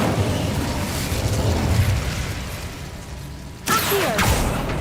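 A fire spell cast in Hogwarts Legacy bursts out with a loud sudden whoosh and crackle partway through, cutting across a dense, steady rumble of ambient game sound.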